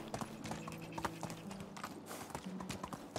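Hooves of a horse being ridden in the medieval game Medieval Dynasty, a quiet, steady clip-clop trot running throughout under faint background game sound.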